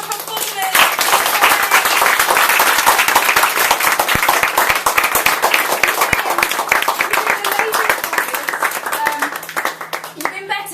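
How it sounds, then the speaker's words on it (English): A large audience gives a long, loud round of applause for poetry performers at a fringe festival show, dense rapid clapping sustained for about ten seconds with some cheering voices. "Can I have a huge round of applause for all the performers?"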